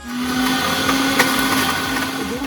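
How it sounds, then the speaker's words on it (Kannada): A kitchen mixer grinder whirs loudly and steadily, grinding fenugreek seeds with rock salt, jaggery, green chilies and a little water, a continuous motor drone with a rattling, churning texture and no talk. "ಮೆಂತೆನ ಮಿಕ್ಸಿ ಜಾರಿಗೆ ಹಾಕ್ಕೊಂಡಿದ್ದೀನಿ. ಇದ್ರ ಜೊತೆಗೆ ಸ್ವಲ್ಪ ಕಲ್ಲುಪ್ಪು ಮತ್ತು ಸ್ವಲ್ಪ ಬೆಲ್ಲ, ಒಂದೆರಡು ಹಸಿಮೆಣಸನ್ನು ಹಾಕ್ಕೊಂಡು ಸ್ವಲ್ಪ ನೀರು ಹಾಕಿ ರುಬ್ಕೊಂಡ್ಬರೋಣ"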